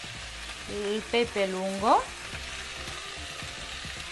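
Coarsely cut potatoes and zucchini sizzle and toast in a pan for a vegetable cream soup, a steady crackling hiss heard close under someone speaking Italian.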